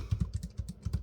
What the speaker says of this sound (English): It's got hardly any feedback at all, and the keys don't really move down very much, and hardly any travel at all.